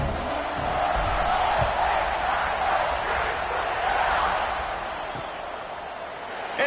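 A football stadium crowd roars steadily before kickoff in a college game between Minnesota and Ohio State, a dense, distant wall of cheering that swells slightly and holds throughout.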